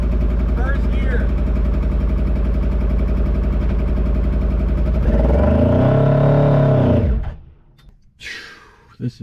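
A Hayabusa-engined Mini Citicar pulls away in first gear, its motorcycle engine loud and close, droning steadily and then rising sharply in pitch as it revs before dropping off, with faint voices at the end.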